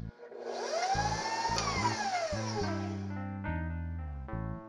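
An electric mixer whirs steadily for several seconds as eggs and vanilla are blended into cookie batter, close and fairly loud, with background music underneath and the motor tailing off near the end.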